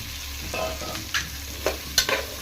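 Radish pieces frying in oil as they are stirred in a pan, a soft continuous sizzle broken by a few sharp scrapes and clicks of the spoon against the pan.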